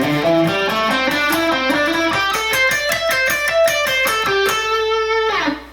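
A fast minor pentatonic lick on guitar with a driven, slightly distorted tone, rapid picked notes tumbling along before resolving on a held root A, loud and close with no voices.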